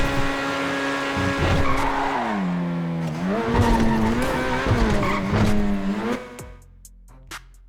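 In the GTA V FiveM racing game, a car's engine revs hard and wavers while its tires squeal in long skids, loud and continuous before cutting off to near silence.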